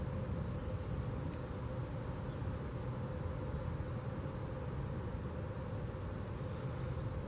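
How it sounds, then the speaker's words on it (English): Insects buzz and drone steadily all around a hiking trail, a faint, continuous hum with no talking. "Bugs all around."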